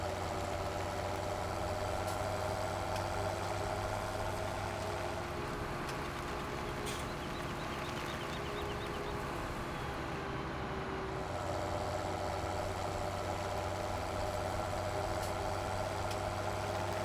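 A tractor in Farming Simulator 17 pulls an oversized trailer, its engine laboring in a steady low drone that holds constant throughout with no talk.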